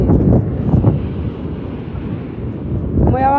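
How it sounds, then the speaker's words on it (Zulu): Strong wind buffets a phone microphone outdoors in Durban, a loud continuous low roar that fills the whole stretch, with a voice faintly breaking through at the end. "Umoya wetheku phela."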